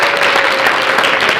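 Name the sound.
audience applause for graduates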